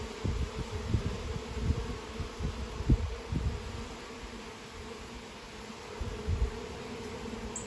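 Bees buzz steadily around hive trays, a dense close droning with small swells and dips in loudness throughout, no voices.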